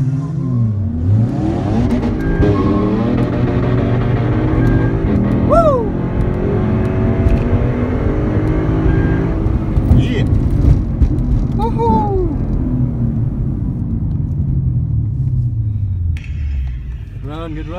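Drag strip race between a supercharged Honda Civic and a Lexus ISF: loud engines hold a sustained roar with rising revs and gear shifts through the run, fading slightly at the end, with someone talking over it.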